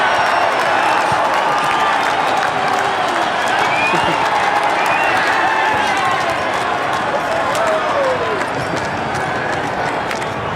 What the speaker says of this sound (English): I expect a reasonable cheer for 67